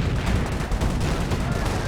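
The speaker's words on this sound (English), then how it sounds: "great sector artillery shot there" Dense, continuous battle din from artillery in the Company of Heroes strategy game, a steady rumble of blasts and gunfire filling the whole moment with no clear single impact standing out.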